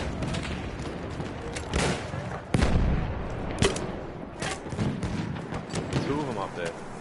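Grenade blasts in Battlefield 1 multiplayer Conquest, heard as several heavy, booming thuds with sharp attacks spread across a few seconds, mixed into dense battle noise and gunfire while players talk over it.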